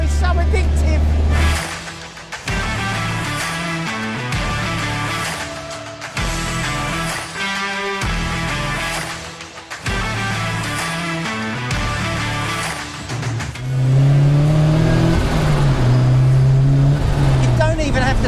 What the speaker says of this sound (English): the best part about it is just that induction noise